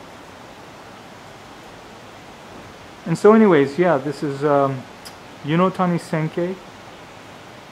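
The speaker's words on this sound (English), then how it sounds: "the river flowing. So this is right along the river." A river flows beside a Japanese ryokan at Totsukawa Onsen in Nara Prefecture, a steady broadband rushing wash running throughout, with someone speaking over it for a few seconds in the middle.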